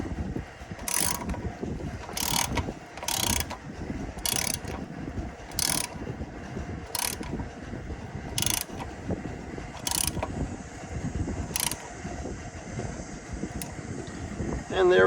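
A ratchet wrench tightens valve cover bolts on an Allis-Chalmers 7045 tractor, clicking in a regular series of sharp, close strokes over low background rumble.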